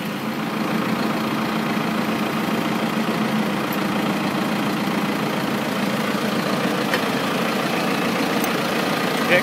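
A heavy tractor engine idles steadily and continuously throughout while pulling out a stuck vehicle, a low rumbling drone with no talk over it.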